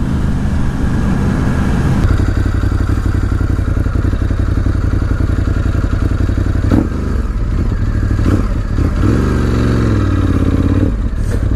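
Ducati Scrambler 1100 Special motorcycle, a 2018 model, revving its engine: a loud, continuous close-up engine roar with repeated throttle blips and rising, falling pitch, with no talking.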